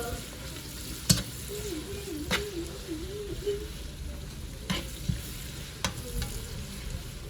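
Chopped garlic and ginger frying gently in a pan for chicken, a soft steady sizzle with a few sharp clicks of a utensil against the pan, no voices.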